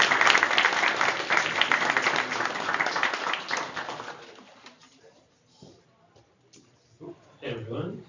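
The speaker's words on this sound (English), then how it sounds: "Let's give them a round of applause." An audience at a data science lab talk applauds a speaker, dense clapping filling the first few seconds before fading out, followed by a stretch of quiet and then a brief voice near the end.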